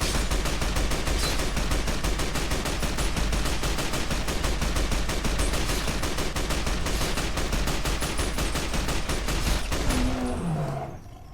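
Rapid, sustained automatic fire from the All-American rifle shooting normal rounds in Fallout: New Vegas, a dense, loud, unbroken stream of shots running for about ten seconds before cutting off abruptly.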